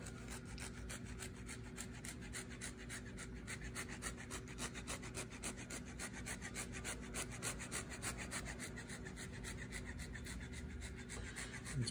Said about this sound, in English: I'm going to grate some fresh Parmesan on top.